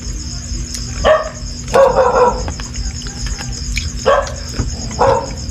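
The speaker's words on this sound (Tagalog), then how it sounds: "Yan yung tumatahol mo ito." A dog barks a few times at moderate distance, separated by pauses, with crickets chirping steadily in the background.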